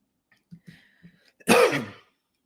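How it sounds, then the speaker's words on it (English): A few faint throat noises lead into one sharp, close cough near the end, followed by silence. "I got the courtroom cough"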